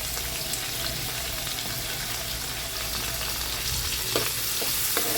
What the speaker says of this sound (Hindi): हम इसको भूनेंगे प्याज को